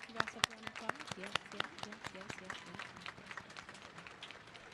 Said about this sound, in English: Graduates, stand up, give yourself a round of applause.